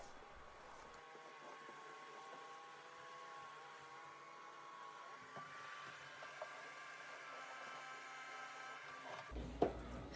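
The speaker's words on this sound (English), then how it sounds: "Okay, vacuuming is done now." A vacuum cleaner runs over a floor with a continuous, even motor drone and a high whine, holding steady throughout before a brief bump and shift near the end.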